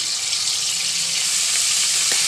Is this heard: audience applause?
no